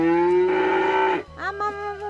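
A cow lets out a long, loud moo close by, then a shorter rising call follows after a brief pause, with no talking.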